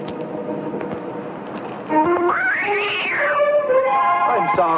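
A cat, called a puma, lets out a drawn-out wavering meow partway through, fairly close, over a low background hum in an old 1961 horror film soundtrack.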